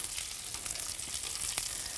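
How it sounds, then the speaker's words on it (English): Oats and scallions frying in bacon fat, a steady, close sizzle with small crackles and pops throughout, with no voices. "So oats cooked in bacon fat, that's what we call Mealie-Crushie."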